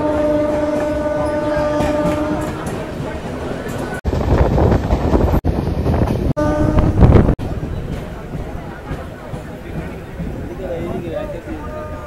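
A crowded commuter train on the line to Canning station in West Bengal rumbles steadily, with brief hornlike tones early, a louder clattering stretch from an open doorway, and people talking throughout.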